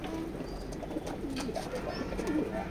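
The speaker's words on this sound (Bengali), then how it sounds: "তো এ হলো রেড গ্রিজেল নরটা, একাই ডাকে" A red grizzle male pigeon coos on its own, a steady run of soft, low, rolling coos over light background noise, fairly close and moderately quiet.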